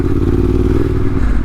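A Yamaha T7 motorcycle's rear wheel slides through mud off-road, the engine running loud and close with a dense rumble, clattering and scraping throughout.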